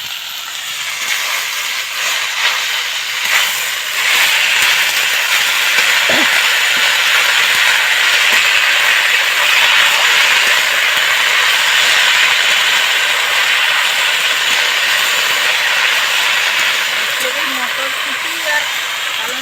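Spinach fries in a wok, a loud, steady sizzle and hiss that holds for nearly twenty seconds with faint stirring scrapes and clinks, close and unbroken, no talk.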